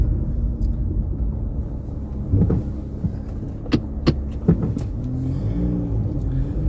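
A 2012 Porsche Panamera with an automatic gearbox, reversing in reverse gear, gives a low, steady engine rumble and hum from inside the cabin, with a few faint clicks and soft knocks over it.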